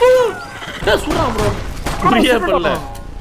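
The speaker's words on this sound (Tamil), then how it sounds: "துப்பாக்கி" Gunfire from the Dead Reset video game crackles in rapid bursts, mixed with game sounds while voices talk over it throughout.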